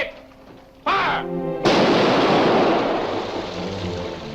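A ship's cannon fires on command in the 1945 film Captain Kidd, a sudden loud blast that rolls into a long, broad roaring decay, preceded by a brief harsh burst after a quiet opening.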